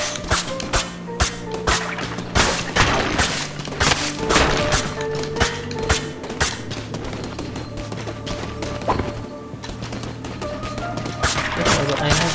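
Objects being smashed and destroyed in Cult of the Lamb, with repeated sharp whacks and crashes over steady game music, loud and close throughout.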